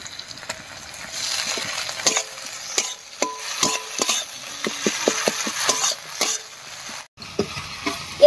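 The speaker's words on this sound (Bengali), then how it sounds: "এবার সব একসঙ্গে করে দিয়ে দিচ্ছি" Ground cumin, coriander, garlic and ginger pastes fry with tomato in a pan for a pointed gourd and egg dish, with a soft sizzle under repeated scraping, clattering strokes of a spoon.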